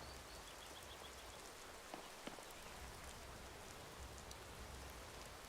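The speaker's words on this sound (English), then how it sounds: "It's always raining in Falkreath." Steady rainfall in Falkreath, a rainy town in the video game Skyrim VR: a continuous, fairly faint hiss of drops with no voices.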